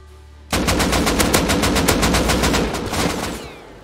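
Rapid automatic gunfire from the video game Rust, a loud sustained burst of evenly spaced shots lasting about three seconds, heard alone with a brief tail at the end.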